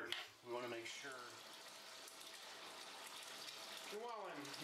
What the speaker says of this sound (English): while I'm messing around waiting for this water to fill back up